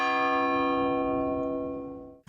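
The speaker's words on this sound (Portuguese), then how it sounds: "Quem é de São João del Rei compreende o que se passa na cidade só de ouvir o som dos sinos." A church bell in São João del Rei, Brazil, rings with a single sustained, resonant tone that slowly fades over a couple of seconds before cutting off.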